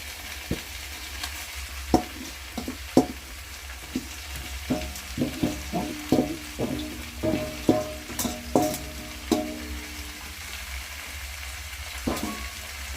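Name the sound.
okra frying and being stirred in a pan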